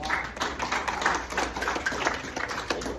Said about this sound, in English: You have clapped on every cue so far.